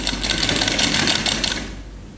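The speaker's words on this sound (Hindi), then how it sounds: "दोनों पीस को बराबर करते हुए स्टिच करना है" A sewing machine stitches two kurti fabric pieces together in a fast, steady, whirring run of needle strokes that is close and loud, then slows near the end. No one speaks.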